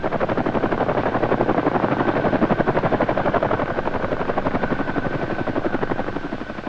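A CH-47 Chinook helicopter hovers nearby during a 1977 airlift, its twin rotors producing a loud, continuous, fast-throbbing whump that holds steady throughout with no voices.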